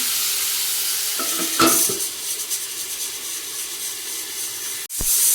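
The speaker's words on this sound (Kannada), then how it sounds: "ಹೀಗೆ ಎಣ್ಣೆಲಿ ಬೆಣ್ಣೆಲಿ ಬೇಯಿಸೋದು" Food cooks in oil and butter in a pan, a loud, steady sizzle and hiss filling the whole stretch, with a couple of clinks of a utensil against the pan.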